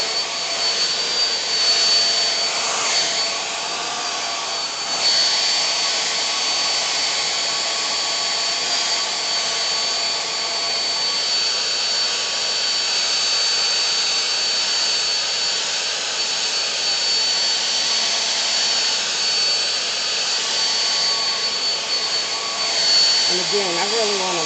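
A hair dryer blows out a Freetress Equal "Sapphire" whole lace, full hand-tied wig. Its loud, close, steady rushing airflow runs unbroken for about 24 seconds with no talking over it.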